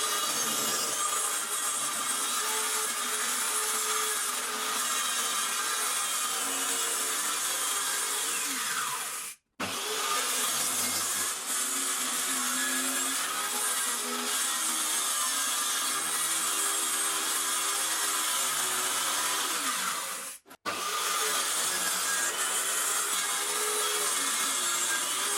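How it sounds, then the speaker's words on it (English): A plunge saw runs along a straight edge, giving a loud, close, continuous cutting whine that breaks off twice for a moment before carrying on, with no talking. "So with my saw here today, I'll plunge come down."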